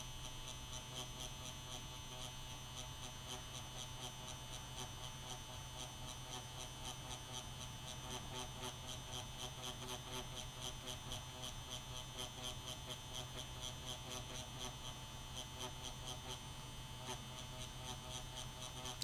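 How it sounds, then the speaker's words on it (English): An Xion S tattoo pen machine runs on its softest setting with a needle cartridge, giving a steady, faint electric buzz with a fine rapid pulsing, constant throughout with no talking. "Now I'm using the Xion S with the same needle cartridge."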